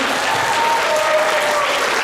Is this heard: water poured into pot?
no